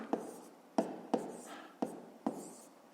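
Pen strokes on paper during a fifth-grade math exercise, close and fairly quiet: five or six short scratchy strokes in an irregular rhythm, each starting with a sharp tap and trailing off, with no talk.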